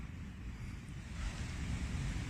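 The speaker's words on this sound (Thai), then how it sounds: "นี่คือ บริเวณ ป่าตอง เรียบทะเลนะครับ" Sea waves wash against Patong beach in Phuket at night, a steady broad rushing surf mixed with wind buffeting the microphone, continuous and fairly close, with no voices.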